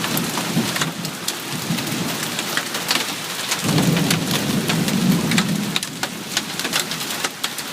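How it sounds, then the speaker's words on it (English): Heavy rain pours down during a hail storm, a constant hiss and patter on surfaces, with a deep rumble of thunder rolling in midway and lingering for a couple of seconds before easing. "That's some serious thunder."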